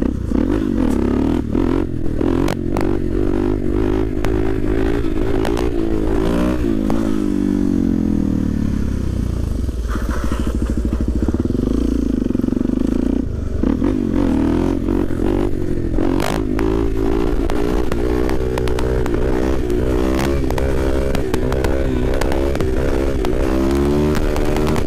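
A supermoto motorcycle engine revs hard and continuously while wheelies are popped outdoors. Loud throttle blips rise and fall, with a brief dip in the middle before the engine climbs again, and no talking.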